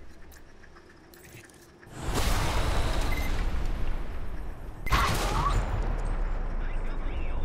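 Two loud, broadband volleys of gunfire in the video game Alpha Protocol, each holding as a roaring wash after a quiet opening. The second swells slightly louder than the first.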